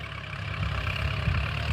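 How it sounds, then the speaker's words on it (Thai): A tractor engine runs loudly and steadily nearby, a low rumbling drone that swells slightly partway through, with no voices over it. "เสียงรถไถดังดังจ้าพี่น้อง"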